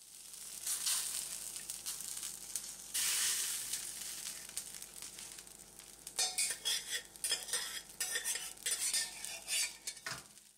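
Boiled mutton liver is being stirred into a thick onion gravy for meter do pyaza, with repeated metal spoon scrapes and clinks against the pan over a soft sizzle, growing busier and louder toward the end.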